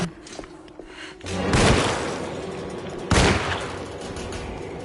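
Bursts of gunfire ring out in the horror game Alone in the Dark: two loud volleys of shots with echoing tails, heard close over a murky ambient background.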